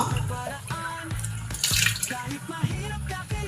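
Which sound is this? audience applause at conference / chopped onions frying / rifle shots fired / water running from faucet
water running from faucet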